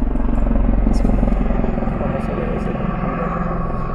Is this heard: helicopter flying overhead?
yes